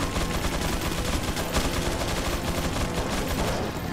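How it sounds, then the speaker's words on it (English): Shotgun blasts in the video game Resident Evil 4 sound as a dense, loud barrage of gunfire, the shots running together with no pause and no talk over them. "Three times with the shotgun."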